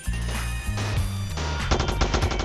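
Rapid bursts of gunfire in a Spider-Man video game, loud repeated automatic shots crackling in quick clusters, with sustained low droning tones underneath before the volleys intensify.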